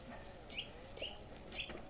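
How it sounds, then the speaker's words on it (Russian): Faint, brief chirps from sparrows begging for food repeat three times at a slow, uneven pace against a quiet outdoor background. "Слышите, как птички просят уже."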